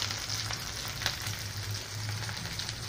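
Onion, cabbage and capsicum stir-frying in a pan for veg triple Schezwan rice, a steady, close hiss of sizzling with a few soft stirring scrapes throughout and no talking.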